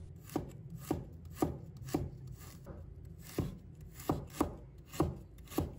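A knife slicing a piece of ginger on a cutting board, about a dozen crisp chops in an uneven rhythm with short pauses, close and fairly quiet.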